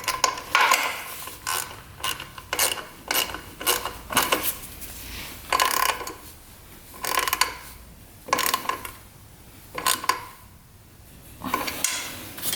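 Gear shifter on a Suzuki Quadzilla 750cc quad being worked by hand: a series of close, sharp metallic clunks and ratcheting clicks repeating every second or so, with short gaps and no talking.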